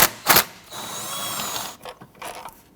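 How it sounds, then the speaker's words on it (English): A 10mm socket ratchet with an extension loosening bolts on a 2006-2010 Hummer H3 3.7L, with a couple of sharp clicks followed by a rapid, sustained ratcheting whir up close. "you have two 10mm bolts you want to go ahead and access. Use your 10mm socket and extension."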